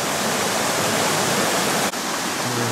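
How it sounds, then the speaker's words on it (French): Waterfall in a Chartreuse forest, a steady broadband rush of falling water that holds loud and constant throughout, with no voices. "Juste avant la cascade."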